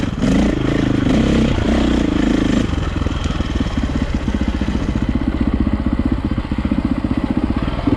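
A 2004 KTM 525 EXC dirt bike engine runs steadily while being ridden, a loud, close, continuous throbbing thump with rough mechanical clatter that eases slightly after the first few seconds.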